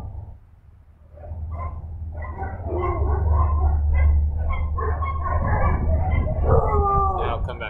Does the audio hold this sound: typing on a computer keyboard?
no